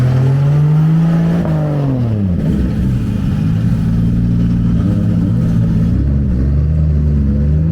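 A drift car's engine revs hard on a test run after a power increase, a loud continuous roar with pitch rising, dipping around the second mark and climbing again, sustained throughout with no talk.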